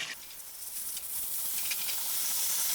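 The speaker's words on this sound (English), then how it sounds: "fry all 16 wings at once" Sixteen chicken wings frying at once in beef tallow heated to about 375 degrees make a soft, steady hiss and sizzle that swells slightly, with faint bubbling crackles and no voices.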